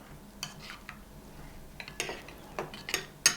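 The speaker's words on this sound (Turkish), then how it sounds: "Şöyle bir karıştıracağım." Spoon clinking in a bowl as tarhana powder is stirred into cold water, quiet irregular scrapes and taps that get sharper toward the end, close up with no talk.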